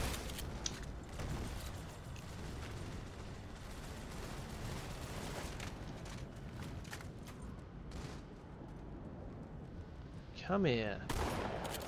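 Halo MCC multiplayer combat with frequent gunfire cracks and bursts over steady battle noise, a louder grenade-like blast near the end, and a voice speaking briefly.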